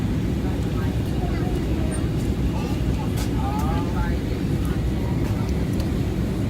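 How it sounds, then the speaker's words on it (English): A steady, heavy roar of a jet fills the whole stretch, a constant low rumble inside an airplane cabin as it comes in to land. "Plane's about to land, baby."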